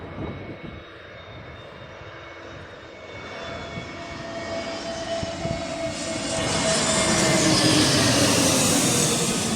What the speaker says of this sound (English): It's the Jet2 Airbus A321.